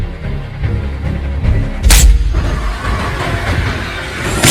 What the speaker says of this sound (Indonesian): Tak disangka tembakan Henry berhasil mengenai target pada bagian leher